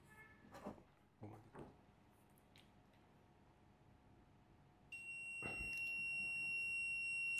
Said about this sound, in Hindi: ये बजर की आवाज़ आ रही है, तो ये डायोड ख़राब है।